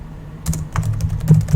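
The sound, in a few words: typing a name on a computer keyboard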